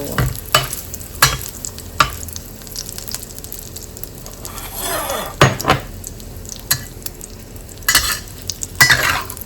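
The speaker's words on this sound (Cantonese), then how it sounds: "而家嚟拔起嗰啲煙肉先。" Fatty bacon is stir-fried in a wok, with sharp metal spatula scrapes and clanks punctuating a continuous close sizzle of rendering fat, the strikes coming in irregular bursts with no talking.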